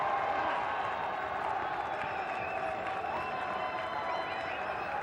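Cricket test crowd applauding Rahul Dravid reaching 250 against Pakistan, a broad wash of clapping and crowd noise from a stadium, steady and sustained with faint cheering mixed in.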